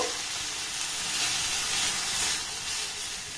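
Grated potato dropped into hot oil in a pan, giving a loud, continuous, hissing sizzle that stays steady throughout with no voices.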